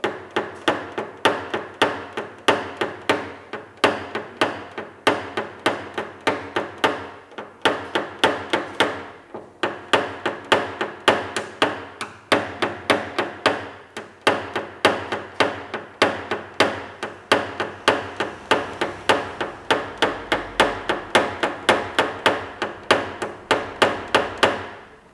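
Rapid, steady tapping of a correction pin against a dented car panel during paintless dent repair, dozens of crisp metallic knocks in an even rhythm, close and loud with no talk.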